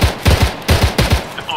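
Gunfire in ARMA 3, a military shooter: loud, close, rapid bursts of automatic shots in a rhythmic sequence of quick cracks, with no speech over them.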